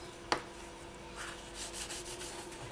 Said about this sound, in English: I just want to sand along the edges here, just to get rid of any smears that might be there.